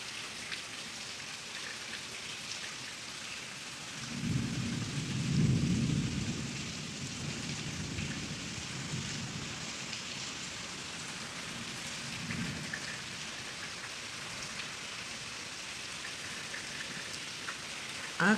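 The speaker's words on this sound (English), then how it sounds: "Afternoon thunderstorms in Florida." Afternoon thunderstorm in Florida with steady rain, a constant hiss of falling rain and a low rumble of thunder swelling around the middle before fading back into the downpour.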